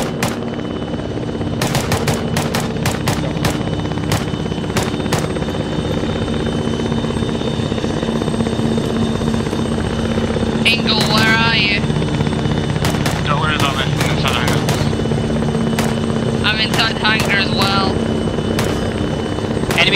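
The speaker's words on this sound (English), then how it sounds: "He's dropping down from the helicopters." Military helicopters in ArmA 3 thrum continuously with a steady rotor drone, overlaid by sharp bursts of gunfire and radio chatter with voices talking.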